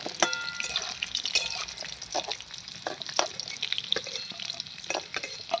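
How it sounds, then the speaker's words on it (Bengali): Chicken pakoras for chili chicken deep-fry in hot oil, a steady loud crackling sizzle with scattered pops and spatters, continuous throughout with no talking. "সব মাংসের পকোড়াগুলো কিন্তু ভেজে নিতে হবে"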